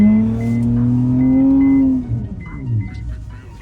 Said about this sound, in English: I just hit the handbrake and we're sliding out.